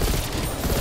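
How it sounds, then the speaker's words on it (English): Rapid, dense automatic gunfire from Call of Duty Black Ops Cold War during an Outbreak zombies boss fight, a continuous loud burst with no break. "I'm shooting him."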